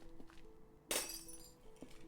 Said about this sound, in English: Heard glass breaking.